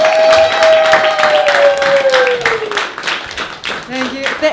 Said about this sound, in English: So with a big round of applause, help me welcome